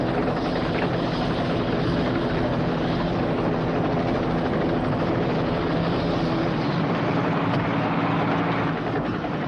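A helicopter roars loud and close in a Superman movie scene, its rotor throb and engine noise steady and unbroken, with no speech over it.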